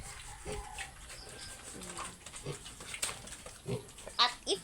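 Pigs grunting and oinking at feeding time on a small farm, close and intermittent, with a person talking over them.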